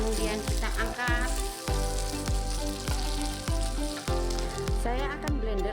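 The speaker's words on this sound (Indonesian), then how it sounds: "kemudian 4 siung bawang putih. Goreng sampai matang." Garlic cloves fry in hot oil with a steady crackling sizzle, while rhythmic music plays prominently over it throughout.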